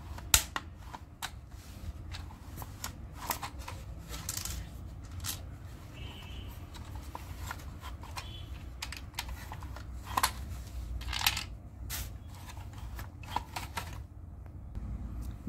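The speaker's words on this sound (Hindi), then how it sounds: "इधर बुलेट डाल देंगे, इसके अंदर बुलेट डालते इसको लॉक कर देंगे। ओके, अभी इसको लोडिंग करेंगे अपन।" Toy M16 sniper gun being loaded with plastic bullets and locked: repeated sharp plastic clicks and snaps at an irregular pace, close and fairly quiet against a soft background.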